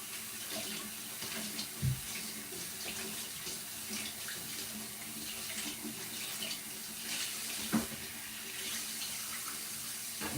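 Running tap water at a kitchen sink while dishes are washed, a steady faint hiss with occasional clinks and knocks of crockery, no talking.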